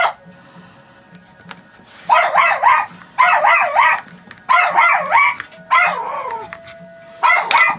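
Small dog barking at a mailman outside, sharp bursts of several yips in quick succession repeating every second or so, loud and near, with quiet kitchen background between.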